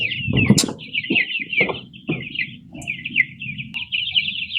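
Ten-day-old chicks peep continuously in a cage, a steady stream of high, thin chirps over lower clucking and handling noise, close and fairly loud.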